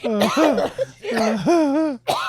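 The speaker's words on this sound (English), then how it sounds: "I apologize for my cough." A few loud, throaty coughs sound up close in quick bursts, harsh and partly voiced, with short pauses between them.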